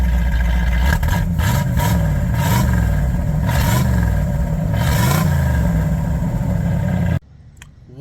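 A 1984 Chevrolet Camaro Z28 V8 engine revs up and down in several loud, close blips over a steady idle, then cuts off abruptly near the end.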